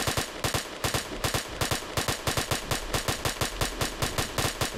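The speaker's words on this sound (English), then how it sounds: "Trying to burst fire it so we can save some ammo." Rapid gunfire in the video game Halo Custom Edition, with loud, close weapon shots fired in short, regular bursts that repeat steadily throughout, with no voices.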